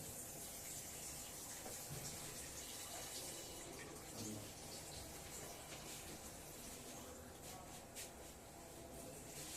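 Water pours steadily into a container as part of a filling race, making a continuous, loud gushing rush with no pauses.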